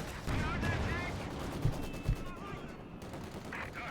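Cannon and machine-gun fire in Company of Heroes 2, a Panther tank's cannon striking a Maxim gun position during a 2v2 match, with two sharp low booms amid crackling battle noise and a faint voice in the background.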